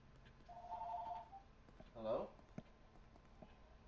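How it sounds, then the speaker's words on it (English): A phone rings with a short electronic tone burst, then a second ring follows, faint and close amid quiet room noise, with no talk over it. "And there goes my phone."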